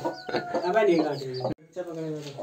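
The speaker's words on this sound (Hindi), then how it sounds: "ये तो देसी मुर्गी हुई ना" A desi hen clucks and warbles close by in a run of throaty calls, pausing briefly before clucking again.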